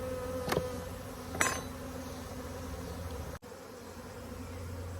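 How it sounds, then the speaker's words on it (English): Honey bees buzz steadily around a Layens hive during a honey harvest, with a couple of louder close passes and a soft constant hum in the background. "The bees are still flying around trying to figure out where they're at"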